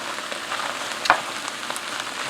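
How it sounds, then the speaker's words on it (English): Rinsed canned white beans tipped into a hot cast iron pan set off a steady close sizzle, with one sharper splash and crackle near the middle. "Next I'm going to add the beans."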